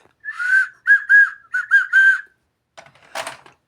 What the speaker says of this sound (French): Le petit Lego, le sifflet.